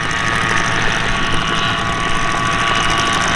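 The engine of a Calidus autogyro flying slowly into wind at an airshow, a loud, steady droning hum with no break or change in pitch.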